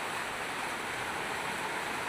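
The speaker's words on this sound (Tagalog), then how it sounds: "Lakas pa ng ulan." Heavy rain falls on a leaky barracks roof as a constant, faint hiss of broadband noise with no breaks or other sounds for the whole stretch.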